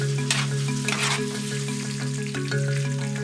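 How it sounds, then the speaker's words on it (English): Diced lamb shoulder browns in a hot pan with a steady, close sizzle and crackle, brief bursts of spitting, and faint stirring; a sustained musical tone runs underneath the frying. "we lightly brown diced lamb shoulder, enough to give us the desired Maillard roasted meat flavours"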